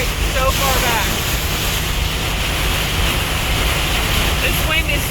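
Strong storm wind during a Florida thunderstorm with tornado warnings roars steadily and loudly against the microphone, a constant broadband rush with a few faint chirping sounds over it.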